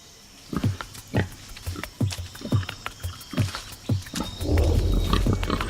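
Bearded pigs grunting in a steady rhythm in an Indonesian rainforest, about a dozen short low grunts close by, followed by sloshing, muddy splashing in mineral-rich water at the end.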